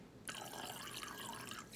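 Liquid drink mix squirted from a bottle into a container of water, a steady close splashy trickle lasting over a second without any talk.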